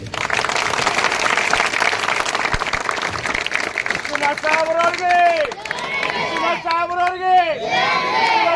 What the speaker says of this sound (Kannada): ಕಸಬಾಪೇಟೆ ಪೊಲೀಸರು ಎಲ್ಲರಿಗೂ ಒಂದು ಜೋರ ಚಪ್ಪಾಳೆ